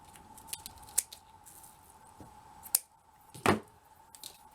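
Scissors make a few sharp, separate snips, close and fairly quiet, while cutting lengths for handmade beaded tassels.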